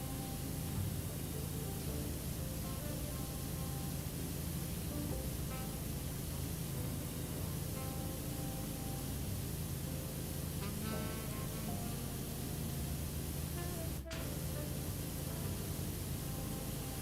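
Steady broad hiss of a pressure washer spraying a wider fan in the video game Powerwash Simulator, running continuously and loud with no pauses, a brief click near the end.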